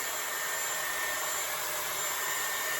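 A Dyson Airwrap hair styler blows steadily at close range, a constant airy whoosh with a high whine, continuous and unchanging.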